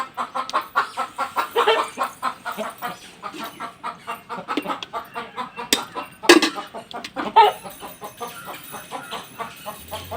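Hens clucking steadily in a repeating rhythm at a home farmyard, with a sharper squawk or two partway through and no talking.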